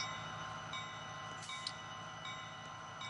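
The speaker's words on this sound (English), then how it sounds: "I like the Santa Fe SD75. It's a pretty cool locomotive." A Santa Fe SD75 locomotive in a Roblox game rumbles steadily with a sustained mechanical drone and faint tonal whines, heard alone at a constant, moderate level.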